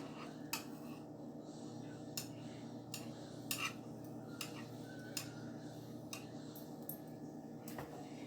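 Faint, steady sizzling hiss of food frying in oil, with occasional small pops and clicks scattered throughout. No voices.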